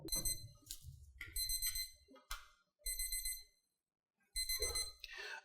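A wireless meat thermometer's alarm sounds high electronic beeping in repeated bursts with pauses between, over faint background noise and a brief murmur of movement.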